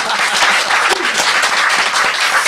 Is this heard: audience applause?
yes